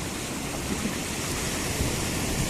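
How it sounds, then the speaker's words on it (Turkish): Sea waves break on a shore where people are fishing, producing a loud, steady, broad wash of surf and spray that fills the whole stretch with no voices. "Tabi geçebilirse dalgalar aman vermiyor."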